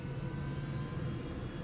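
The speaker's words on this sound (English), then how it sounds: "you can hear the engine as soon as it ignites" An AS350 B2 helicopter turbine lighting off during startup, a steady whining engine roar with a thin high-pitched tone running over a low rumble, close and unbroken.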